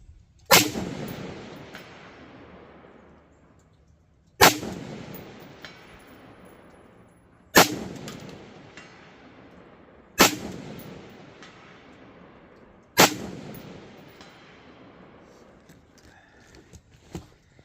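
Five loud rifle gunshots from a Bear Creek Arsenal hammer-forged, side-charging 16-inch 5.56 upper fire outdoors, each a sharp crack followed by a long decaying echo, spaced a few seconds apart.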